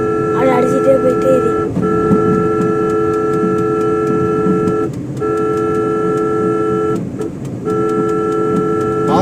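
A vehicle horn blares on a road while passing a lorry spilling gravel, sounding as long sustained blasts separated by a few brief gaps, loud and close over road noise.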